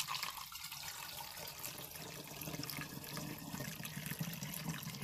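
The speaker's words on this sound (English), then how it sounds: "I'm going to use this funnel to funnel the tea inside of my container" Banana peel tea poured through a funnel into a container, a faint, steady trickling stream of liquid heard up close and alone.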